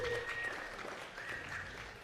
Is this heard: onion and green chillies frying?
no